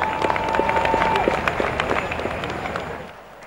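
Applause from a stadium audience at a trophy presentation during the 35th National Games, loud and dense clapping with crowd noise that holds steady and then fades out near the end.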